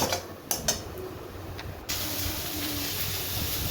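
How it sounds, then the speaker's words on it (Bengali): An egg poached-frying in a pan: a steady broadband hiss, a few sharp spits and crackles early on, then a louder, even sizzle for the rest, close and without speech. "এগ পোচ ফ্রাই করে নিচ্ছি এখানে।"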